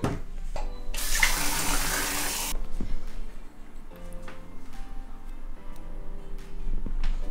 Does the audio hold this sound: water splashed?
yes